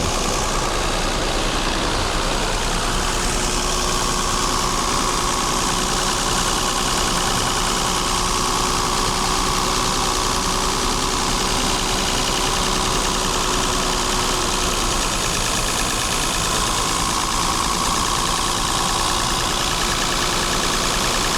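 A Mercedes W126 280SEL, just repaired for a faulty fuel distributor and low on refrigerant, idles steadily at about 1250 rpm with a continuous, even engine drone throughout, close up and without talk.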